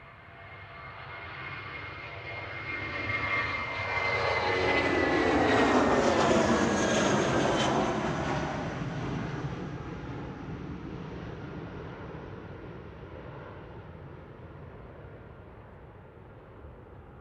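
An airliner passes overhead at Manchester Airport, its jet roar building from a distant whine to a loud, near peak, then fading slowly away, with no talk.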